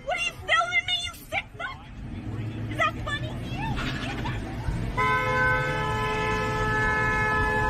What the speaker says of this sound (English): honking that horn, coming in hot